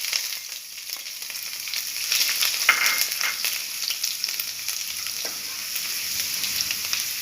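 Ginger and garlic fry with mustard seeds in hot coconut oil, making a loud, continuous close-up sizzle with light stirring scrapes and a few pops throughout.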